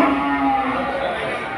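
Cattle at the Kudus livestock market in Indonesia, one close, loud, drawn-out low moo holding a steady pitch against background market noise.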